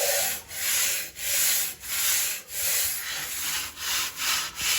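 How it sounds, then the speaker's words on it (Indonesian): Coarse sandpaper rubbed back and forth over foam while shaping a thrown foam glider wing, seven close, loud rasping strokes in an even rhythm with short pauses between them. "Dengan amplas kasar"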